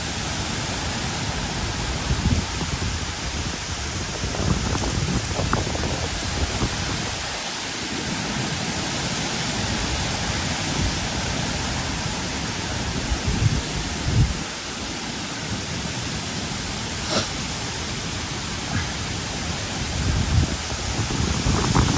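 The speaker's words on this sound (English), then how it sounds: "we got water running, so we'll see what this does when it comes on" A deep well pump running while water flows from a hose faucet, making a continuous broadband rush that stays loud and even throughout, with no voices.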